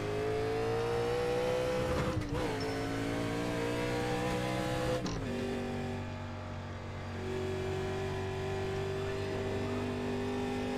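A NASCAR Cup race car engine in a video game holds a steady loud drone, with two sharp gear-change dips as the car struggles into second gear, continuous and close throughout.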